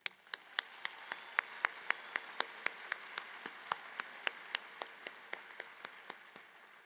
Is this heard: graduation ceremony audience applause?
yes